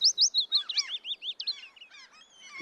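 Outdoors among plants, a bird sings close and clear in a quick run of bright, rising chirps and twittering notes, with a quiet background.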